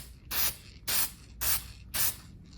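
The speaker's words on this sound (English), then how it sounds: "After you spray a few of these mist coats, let me do a couple." Spray gun misting a light lacquer color coat onto a 2015 Les Paul Studio guitar headstock during repair, four even hissing bursts about half a second each with short pauses between, close and steady.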